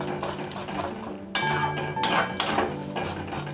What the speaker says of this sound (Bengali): মিডিয়াম হিটে দিয়ে কষাচ্ছি এটাকে আমি।